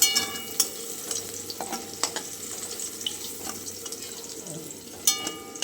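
Vegetables for Bengali shukto frying in oil, a steady low sizzle with occasional stirring clatter and scrapes throughout, close by.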